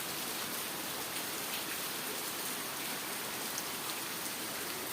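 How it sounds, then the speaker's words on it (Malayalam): Heavy rain pours steadily outdoors at a fishing spot, a dense even hiss of drops striking surfaces with no pauses and no voices. "നല്ല മഴ"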